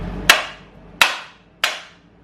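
Three loud, sharp hammer blows with a clapping crack as a metal adapter plate seats against an engine, spaced under a second apart, each decaying quickly into quiet.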